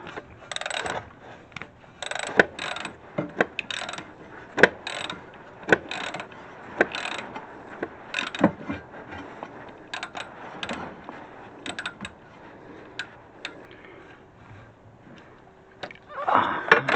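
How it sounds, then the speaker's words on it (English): A ratchet wrench loosens a starter bolt in slow, irregular bursts of sharp clicking, close by, with brief pauses between strokes where leverage is limited. "Also remember that you have to get this wrench out before you start bumping back here."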